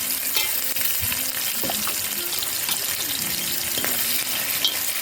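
Bacon with roughly chopped onion and garlic frying in a pan, a loud continuous sizzle with stirring scrapes and faint musical tones underneath.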